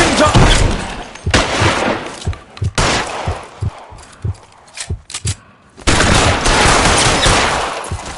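Sustained gunfire in L.A. Noire: loud bursts of rapid shots open and close the passage, with scattered single cracks and thuds in the quieter middle stretch, close and heavy throughout.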